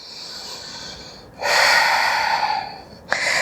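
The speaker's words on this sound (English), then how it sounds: "Plank pose. Staying here, continue breathing." Deep, audible breaths are taken while holding a yoga plank pose: a long, airy inhale or exhale swells close to the microphone, followed by a sharper intake of breath, with no talking.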